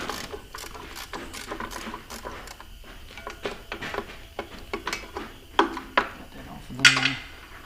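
Socket wrench ratcheting on a bolt of a Rayco 85 stump grinder during bearing replacement, a run of quick metallic clicks in short bursts, close up, with louder clanks of metal near the end.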